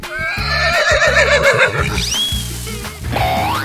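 A horse in a 3D animal video game gives a loud, wavering whinny over upbeat game music, then whooshing and chiming effects follow.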